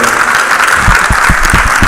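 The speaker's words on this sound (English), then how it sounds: "listening to this clapping" Loud, continuous clapping from a conference audience at a closing ceremony fills the space, with several heavier near claps thumping through in quick succession.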